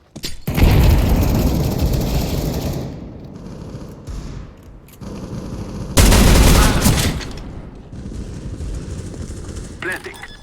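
A grenade blast and bursts of automatic gunfire in Counter-Strike: Global Offensive, loud and dense with booming surges and rapid shots, with players talking over the action.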